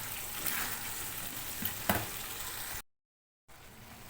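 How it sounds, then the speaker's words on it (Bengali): Pakal fish sautéing with spices in a pan gives a close, steady sizzle with a few sharp stirring scrapes, then a brief cut to silence before the frying resumes more quietly. "একটুখানি কষে নেব মাছগুলো দিয়ে।"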